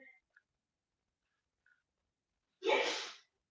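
A single short sneeze bursts out after near silence, close and sharp, preceded by a couple of faint small noises.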